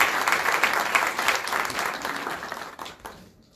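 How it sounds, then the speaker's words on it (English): Conference hall audience at a closing ceremony gives a big round of clapping, a dense, steady burst that stays full for a few seconds and then tapers off into near silence. "Please give a big clap."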